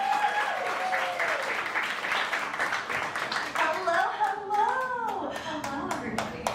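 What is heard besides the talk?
audience clapping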